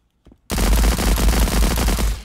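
Evo gun in the video game Transience firing in one fast continuous burst of closely spaced shots, loud and dense from start to finish after a brief quiet lead-in.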